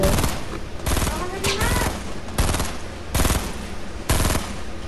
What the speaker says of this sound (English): People are shooting me from freaking all sides.